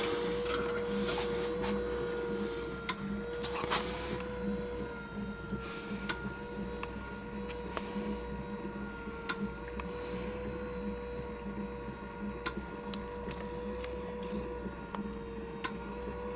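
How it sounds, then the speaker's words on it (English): A roughly assembled Stuart Major model beam engine runs with a steady mechanical hum and whir, overlaid by light repetitive ticks and clicks, plus a brief louder clatter early on. "The noises are where I've just loosely assembled it."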